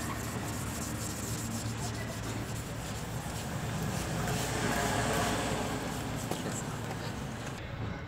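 Continuous close-up rasping of sandpaper rubbed back and forth over a car headlight lens, steady and moderately quiet.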